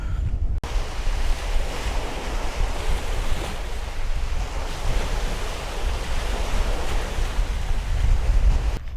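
Steady wind roaring across the microphone with ocean surf washing in at the eastern tip of Long Island, loud and continuous with no talking.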